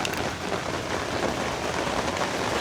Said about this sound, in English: The rain is getting stronger